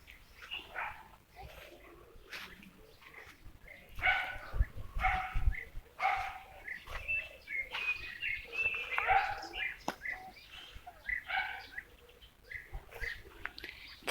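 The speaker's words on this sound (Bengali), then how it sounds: "কিন্তু কুকুরের ডাক শোনা যাইতেছে" Dogs bark intermittently outdoors near trees while birds chirp and call in short bursts, all somewhat distant and fairly faint.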